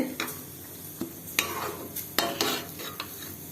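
A carrot and mango mixture is sautéed in a pan, with repeated sharp scrapes and taps of the spatula over a steady frying sizzle, close and fairly loud.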